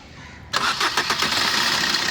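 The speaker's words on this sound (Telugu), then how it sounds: "ఒకసారి మళ్ళీ ఆన్ చేస్తున్నాను, ఇంజిన్ చూడండి" A 2017–18 Maruti Brezza engine cranks and catches at once, then settles into a steady, loud idle close by, with no talking over it.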